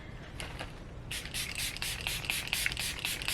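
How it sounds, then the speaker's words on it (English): Makeup setting spray misted onto a face in a rapid series of short, crisp hissing spritzes, close and fairly quiet, following a few softer shakes, with no talking. "I just love spraying my face"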